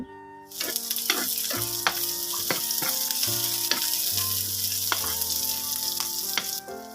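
Onion, garlic, green chillies and dried chillies fry for aloo bhorta, setting off a loud, dense sizzle with frequent crackling pops. Steady tonal sounds run underneath, and the sizzle cuts off abruptly near the end.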